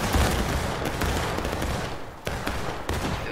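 A musket volley fired on command in the Civil War game War of Rights, a dense crackling burst of many shots at close range that rolls on continuously, with a few sharper cracks trailing near the end.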